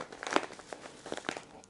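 A small plastic bag from a Turkish market crinkles and rustles close by in quick irregular crackles, with no one speaking.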